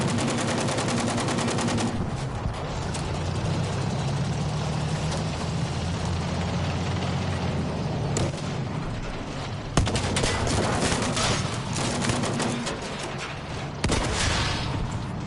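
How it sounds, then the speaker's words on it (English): Battlefield V combat roars with dense, continuous gunfire, rapid machine-gun bursts and heavier booming shots layered over engine and mechanical clatter, loud and unbroken throughout with no pauses in the barrage. "We're taking a lot of fire here."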